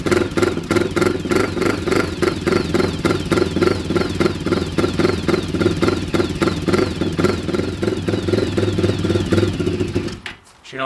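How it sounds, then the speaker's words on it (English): Quad ATV engine running cold with a rough, rhythmic chugging idle, loud and close throughout, cutting out near the end. "I got the quad out, I might as well fire it up, take it for a little spin around the block"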